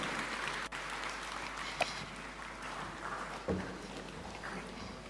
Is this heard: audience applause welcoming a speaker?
yes